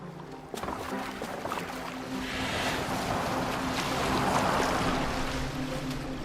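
A boat being steered across water in Assassin's Creed Valhalla, a steady wash of waves and wind along the hull after a brief knock, with a low hum underneath and no voices.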